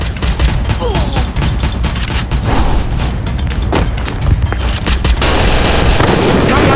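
Rapid bursts of automatic gunfire from the video game Garena Free Fire, mostly UMP fire, rattling loud and nearly continuous, with dense volleys running throughout.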